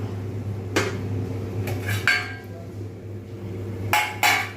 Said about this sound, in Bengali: ট্রেটা নিয়ে এর মধ্যে রেখে দিলাম